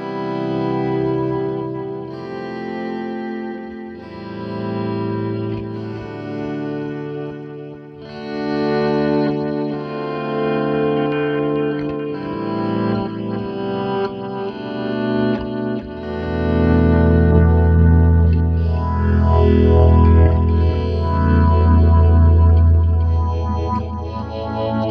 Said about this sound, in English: a bit of a luxury effect which will probably hardly ever get used, but it is a auto volume echo